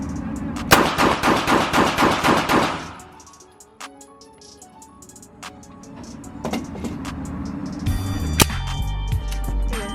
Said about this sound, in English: Show you guys a quick little mag dump of this